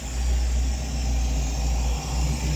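Steady low rumble of a 1958 Ford engine idling, close and continuous, with only a slight dip in level partway through; no voices.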